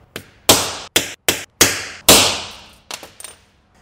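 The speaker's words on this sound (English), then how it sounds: "grab your center punch and a hammer and pop those right in the middle" Six sharp metallic hammer blows on a center punch into scrap metal, struck one at a time with short pauses, each ringing briefly, followed by a couple of lighter taps.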